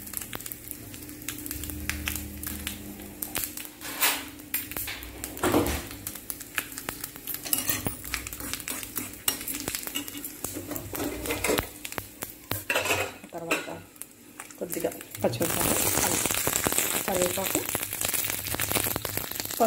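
Mustard seeds crackling and popping in hot oil as tempering spices fry for a ginger tamarind stew, a dense, steady run of close spatters with utensil clinks, swelling into a louder hiss near the end, with occasional faint talk.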